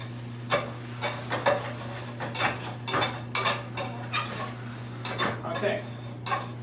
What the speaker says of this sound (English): start deglazing, getting all of that fond off the bottom of the pan